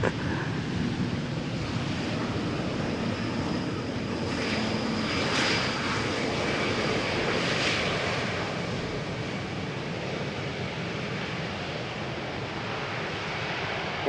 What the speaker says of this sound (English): let us quickly turn back and have a look at the 777 that is coming this way